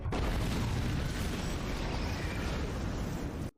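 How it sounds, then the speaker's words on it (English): A sustained roaring blast from an explosion in Star Wars: The Clone Wars fills the moment loudly and evenly, then cuts off abruptly. "Oh, exploded in rainbow as well."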